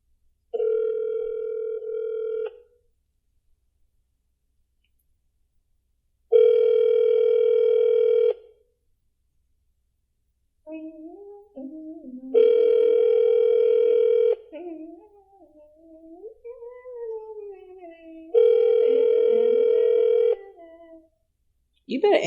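A phone line rings unanswered: four long steady tones, each about two seconds, repeating every six seconds or so, loud and close, with a person talking softly and rising in pitch between the later rings.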